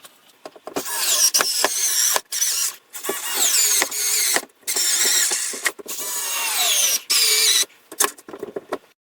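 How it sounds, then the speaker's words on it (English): A power drill bores holes into a bedroom wall to mount a shelf. Loud, whining bursts start and stop repeatedly, with short silent gaps between runs over about nine seconds. "I went ahead and marked it and drilled in the holes."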